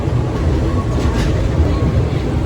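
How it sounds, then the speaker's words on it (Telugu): Passenger train on the Hyderabad–Chennai line, a loud, dense, continuous low rumble and rattle heard from on board, steady with no distinct clicks, with faint voices. "ప్యాసింజర్ ట్రైన్ అక్కడ ఉంది."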